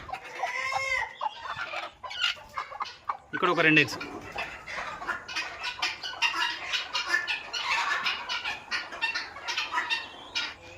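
Free-range guinea fowl and country chickens call in a loud, busy flock, with repeated clucks, cackles and harsh cries layered close together while someone talks briefly over them.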